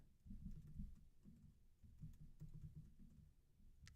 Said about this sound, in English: You might hear some stuff, me typing and stuff that you don't normally hear.